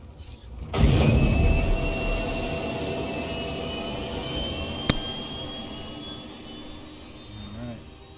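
Spacecraft engines power up for takeoff in the Star Citizen game, opening with a sudden loud roar that settles into a sustained jet-like rumble with rising whine tones, and a sharp click partway through.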